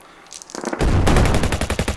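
Machine gun and cannon fire effect during a tabletop Chain of Command wargame set on Guam in 1944: a quiet start, then a dense burst of rapid automatic gunfire with heavy booming shots, loud and continuous to the end.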